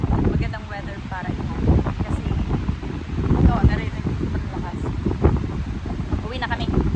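Strong wind gusting across Lindeman Lake along a hiking trail, buffeting the microphone with a steady roar and broadband rumble throughout, with a few faint voices underneath.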